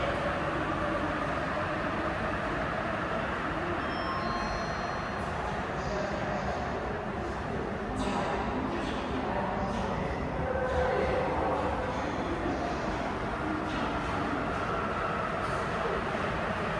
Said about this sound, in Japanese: まもなく1番ホームの福住行き最終電車が到着します